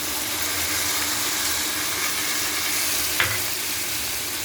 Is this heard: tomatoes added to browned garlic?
yes